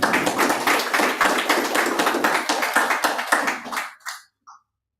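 Audience applause at a Srimad Bhagavat Saptaham gathering, a dense burst of many hands clapping that carries on for about four seconds before stopping abruptly, with a couple of stray claps afterward.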